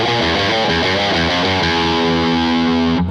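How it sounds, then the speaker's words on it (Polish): A heavily distorted Harley Benton Fusion-T electric guitar through a humbucker pickup plays a sustained, gritty riff, loud and saturated, ending with a sudden cutoff. "A zwykły humbucker by zagadał."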